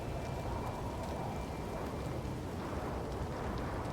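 Steady heavy rain in a storm in No Man's Sky, a constant dense hiss with a low rumbling undertone, unbroken for the whole stretch.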